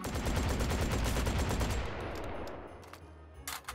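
A Scalpel LE automatic shotgun fires in the VR game Hot Dogs, Horseshoes & Hand Grenades: a loud, rapid string of blasts for about two seconds. A ringing tail follows, with a few clicks near the end.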